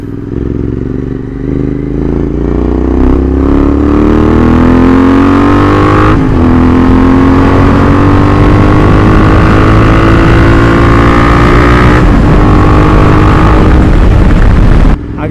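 A GT650 motorcycle engine is ridden hard on a highway. Loud, close engine roar rises steadily in pitch through the gears, with two sharp shift breaks.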